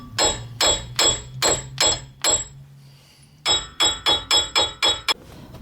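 A hammer strikes a brake rotor repeatedly to break it loose from the wheel spindle of a 2008 Dodge Avenger, sharp metallic blows in two quick bursts of about six and seven hits with a short pause between.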